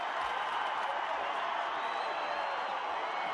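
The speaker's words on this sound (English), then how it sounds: "And the crowd goes wild." A stadium crowd at a schools rugby match between Jeppe and KES roars and cheers steadily after a try, a dense wash of noise with no breaks.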